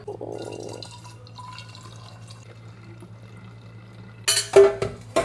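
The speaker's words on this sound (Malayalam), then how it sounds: "നമ്മൾ ഇതിൽ ഒഴിക്കാൻ പോകുന്ന കട്ടൻ ചായ ആണ്. മനസ്സിലായോ? കട്ടൻ ചായ. ഓക്കെ, നമുക്ക് ഒഴിക്കാം." A quiet stretch with a low hum is followed by a short, close splash of black tea being poured into a cup near the end.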